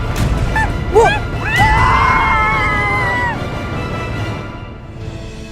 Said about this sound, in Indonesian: Kayak ada suara teriakan ini. Suara longsor juga kayaknya.